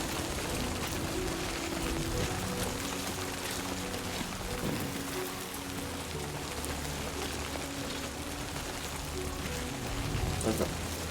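Rain in Death Stranding 2, a dense, steady hiss of drops pattering on surfaces, continuous and enveloping throughout, with faint low background rumble.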